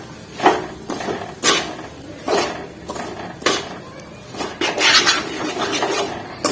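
Semolina being stirred while it fries in ghee in a pan, repeated scraping and clanking of a spoon against the metal roughly every second, loud and close over a faint background sizzle.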